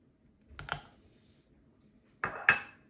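Chocolate cream cheese ingredients dropped into a cooking pot: two short clattering knocks, one near the start and a louder pair after a quiet pause, close and clear with no talk.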